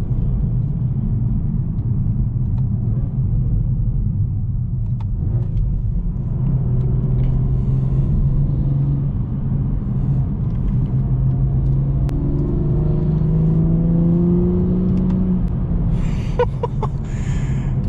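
A tuned BMW 440i with a BMS intake drives through mountain roads, its engine a low continuous rumble that swells as it revs and pulls through the gears, heard from inside the car with no talking.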